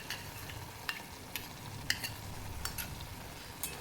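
Gram flour and curd stirred into hot oil in a pan for a masala okra dish, with a steady frying hiss under repeated sharp scrapes and taps of the spoon, close and fairly quiet.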